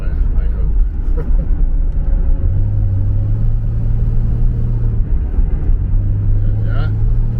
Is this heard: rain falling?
no